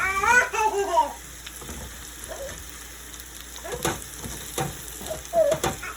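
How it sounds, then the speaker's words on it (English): Bratwurst sizzling in a pan, a soft crackle and hiss with intermittent pops and utensil knocks, fairly quiet throughout, with a brief faint vocal sound at the start. "Find a little spot, put your bratwurst on the pan."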